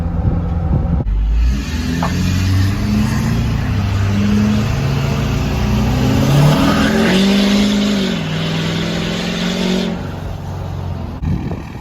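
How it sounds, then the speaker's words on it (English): Loud Ford 6.7 Powerstroke diesel pickup exhaust, a 5-inch system, roaring at wide open throttle outside, the engine note climbing as it accelerates, then dropping off near the end. "you'll hear just how loud it is on the outside wide open"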